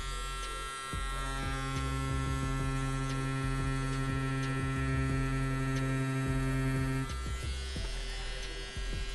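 A tattoo machine fitted with a round shader cartridge or liner runs steadily at normal lining hand speed, giving a continuous close electric buzz with a strong hum that holds evenly for the whole stretch, with no talking.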